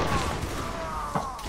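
Musket volley gunfire in a linebattle video game, sounding as a dense crackling fusillade at the start and a sharper shot near the end. Distant battle noise runs underneath, and a voice is faintly present.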